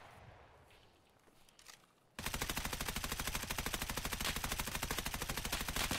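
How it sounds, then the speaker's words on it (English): Suppressed gunfire in Escape From Tarkov: after a quiet, rustling start, a loud, rapid automatic stream of muffled shots kicks in and hammers on in an even rhythm to the end, with no voices. "Silent shots, yeah."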